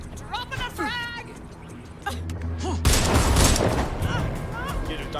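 A frag grenade going off in Watch Dogs Legion, a sudden loud burst followed by a sustained rumbling blast, preceded by shouted and spoken game voices.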